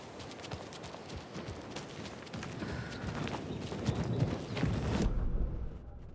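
A horse's hooves clip-clop in Alan Wake 2, a dense patter of hoofbeats over a rough, noisy outdoor background that grows slightly louder toward the end before cutting off.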